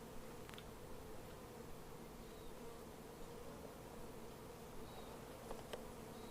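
A honey bee colony, taken out of a rotten tree, buzzes steadily around comb frames in a hive box, forming a dense, continuous hum at moderate volume with faint clicks and rustles.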